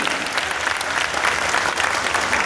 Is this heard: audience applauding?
yes